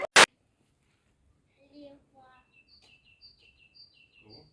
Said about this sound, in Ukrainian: Як пташки співають.